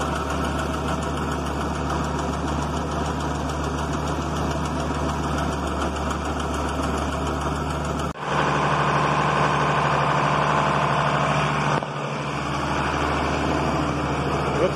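Farm feed mixer engine running at a steady idle, a continuous low mechanical drone with a knocking beat, briefly cut out near the middle and again soon after before resuming its even rumble.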